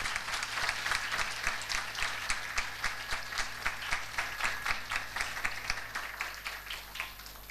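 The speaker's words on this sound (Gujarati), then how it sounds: "એટલે એક વખત જોરદાર તાળી આ પ્રયાસને હોવી જોઈએ." Audience at a Pushtimarg kirtan gathering breaking into a brisk round of applause, dense rapid clapping from many hands at moderate distance, continuing steadily before easing slightly toward the end.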